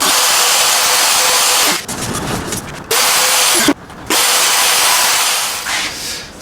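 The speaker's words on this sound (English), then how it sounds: "it's probably easier to take it a little bit off with the router." A router with a straight bit takes a thin pass off guitar top wood, a loud steady high whine with short dips and pauses as the cut is made, close up.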